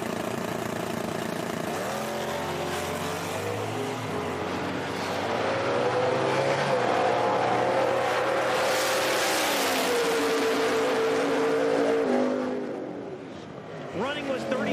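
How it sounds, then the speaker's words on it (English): Ford Mustang Cobra Jet drag race car making a pass down a drag strip, a loud sustained engine roar with rising pitch through the gears, steady and continuous with a public-address announcer talking over it. "The Cobra Jet goes down the racetrack quite nicely."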